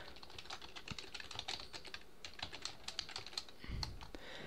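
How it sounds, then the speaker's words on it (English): Fingers type steadily on a computer keyboard, a fast, irregular run of light clicks close to the microphone with no voices, ending in one slightly heavier key press. "I'm actually going to type it out."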